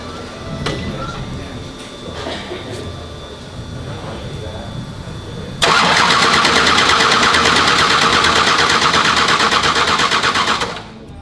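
A FuelTech Radial Outlaws drag race car's engine cranks with a loud, dense mechanical whir that starts abruptly and runs steadily for about five seconds before cutting off, after quieter background noise.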